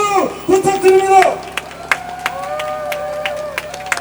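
Crowd at an outdoor political campaign rally in Yeonsu, Incheon clapping, the applause swelling briefly before fading into scattered claps, with a loud amplified voice speaking over it.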